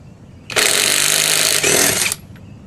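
Bamse 1/2-inch drive cordless impact wrench removing a lug nut, one loud sustained hammering whir of about one and a half seconds, close up, with a brief dip partway through.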